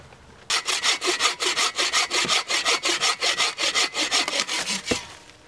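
Firewood being cut with an Agawa Boreal 21 folding saw outdoors at a campfire: about twenty loud, steady back-and-forth rasping strokes in a quick, even rhythm, close up, with no talking.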